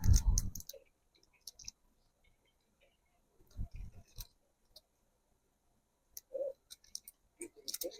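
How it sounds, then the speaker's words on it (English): Plastic packaging is peeled off a diamond art Christmas coaster kit: crisp crinkling and clicking bursts in short clusters, separated by near-silent pauses, close to the mic. "Try and get this plastic off."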